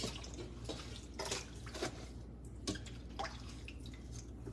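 Dragon fruit is rinsed under water, with soft, quiet drips and splashes arriving in irregular bursts at close range, and no voices.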